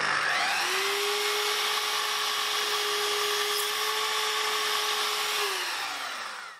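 A power saw cuts the end off a small wooden piece. Its loud, steady motor whine holds for about five seconds, then winds down, with no talking.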